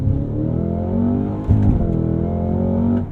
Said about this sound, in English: With my race box set up here, I'm just going to build up the revs with the clutch engaged,